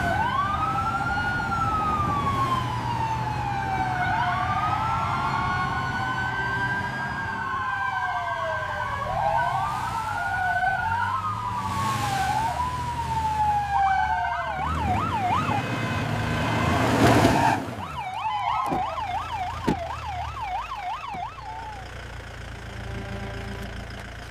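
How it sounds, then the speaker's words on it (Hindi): Wailing sirens sweep up and down continuously over a low engine rumble, several overlapping, growing louder and more urgent toward the end. "सड़क पर सायरनों की गूंज फैल गई।"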